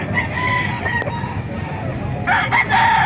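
A Kanawayan gamefowl rooster, 10 months old, crows loudly and close at a Calumpit market, with other birds clucking and crowing in a busy background.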